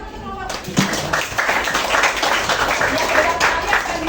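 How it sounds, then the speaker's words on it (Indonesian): Classroom applause for a student presentation group during a teacher coaching session, a steady wash of many hands clapping for about four seconds, with some chatter underneath. "Tepuk tangan untuk kelompok 5."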